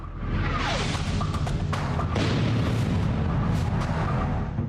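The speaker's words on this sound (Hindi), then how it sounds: "ताबड़तोड़ 3 रॉकेट धमाके।" Loud rumbling blasts and booms of three rocket explosions in Kabul roll in succession, dense and continuous, with whooshing bursts layered over a heavy low-end roar.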